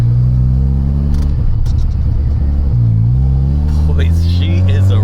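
A supercharged Honda Civic EK with a single-cam D16 engine pulls away from inside the cabin, its engine droning and rising through the revs loud and close, while a driver talks over the rumble.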